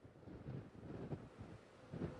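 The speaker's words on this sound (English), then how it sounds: "with these big wind gusts coming through the area" Strong wind gusts from Hurricane Ian buffet the microphone in a sheltering parking garage, a steady low roar with rushing surges that swell and fade.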